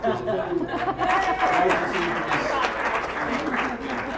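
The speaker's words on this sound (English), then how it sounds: "So big round of applause" Audience clapping at a presentation, a steady wash of claps mixed with crowd chatter, a little laughter and voices talking over it.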